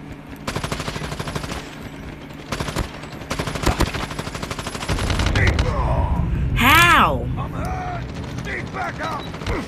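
Rapid, loud automatic gunfire from a multiplayer shooter game rattles in close bursts, then gives way to a louder, rising sweep of game sound and a voice over the top.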